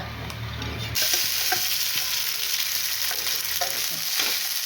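Leftover cumin rice sizzles in oil as it is reheated and stirred in a pan, a soft steady frying hiss broken by light scrapes of the spoon.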